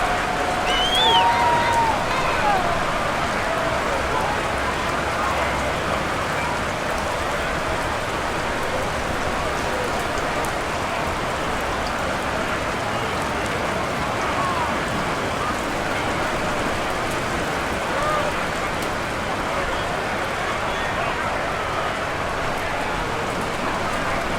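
Steady rain falls throughout an NFL football game between the New Orleans Saints and Carolina Panthers in Madden NFL 23, a continuous dense hiss with crowd ambience beneath and a few brief whistles or tones early on.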